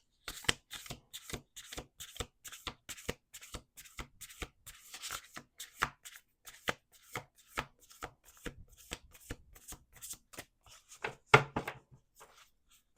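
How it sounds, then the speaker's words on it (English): Oracle card deck shuffled on a table in quick, crisp riffling bursts, dense at first and then thinning into scattered taps and slaps near the end, close and clear with no talking. "Two more shuffles."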